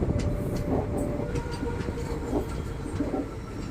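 A daily express train rolls into Kuttippuram railway station in Malappuram district, a steady close rumble of wheels and carriages with faint rhythmic clacks and squeals throughout, no voices.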